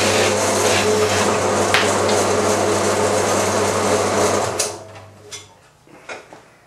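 A bandsaw with a brand new blade cuts through a piece of alloy bronze, a steady loud whining drone that runs for about four and a half seconds before stopping and winding down, followed by a few faint clunks.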